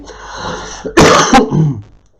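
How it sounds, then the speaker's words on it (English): A single harsh, throaty cough bursts out close to the mic, preceded by a faint wheezy breath and trailing off into a brief rasp. "still getting rid of this cough."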